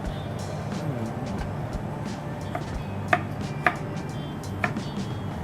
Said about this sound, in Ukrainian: Все нарізаємо такими крупними сегментами.